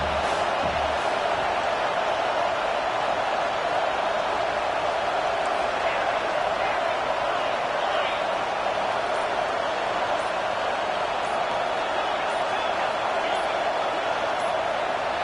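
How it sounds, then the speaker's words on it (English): Sustained stadium crowd roar in a football video game, rising behind the defense on third down late in a tight first half; a steady, dense wall of noise throughout with no talk. "Decibels rising as the crowd gets behind this defense on 3rd down."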